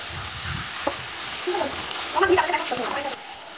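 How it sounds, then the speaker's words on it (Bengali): Ginger-garlic paste sizzles in hot oil and is stirred in a pan. A steady frying hiss carries the scraping of stirring, and a voice speaks over it in the middle. "আদা রসুন পেস্টটা দেওয়ার পর আর একটু নাড়িয়ে নেবে"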